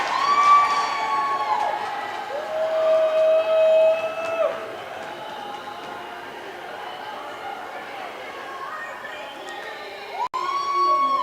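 A home crowd at a college women's club hockey game, Colorado Buffaloes hosting Denver, cheers and shouts steadily, with whistles and horn-like tones over the loud sustained roar of the arena.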